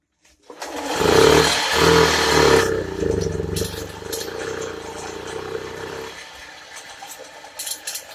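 A motorcycle engine cranks and catches with a loud rough roar, then settles into a quieter steady idle with clutch rattle, with a brief burst of noise near the end.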